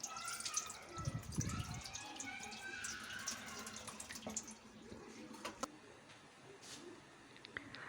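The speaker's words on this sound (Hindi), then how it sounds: "पानी के साथ इसको जब धोएंगे तो इसको अच्छे हाथों से मल के उतारेंगे" Arvi (taro root) is washed by hand in water, with steady soft splashing, rubbing and trickling throughout and a few louder sloshes, all at a low, close level.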